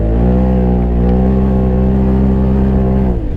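A Polaris RZR side-by-side weighed down with mud roars loud and close on a dirt race lap, its engine holding a steady high drone before dropping off at the end.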